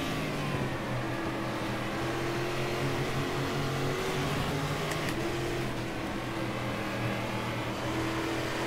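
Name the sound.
V8 stock car engine in video game Game Stock Car 2013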